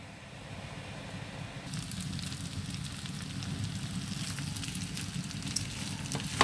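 Rice frying in a home kitchen pan with half-cooked green peas, a soft low sizzle that swells after the first couple of seconds and keeps a steady crackle, with a light knock at the end.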